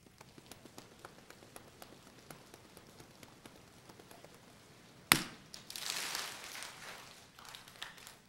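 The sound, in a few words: audience imitating a rainstorm with hand actions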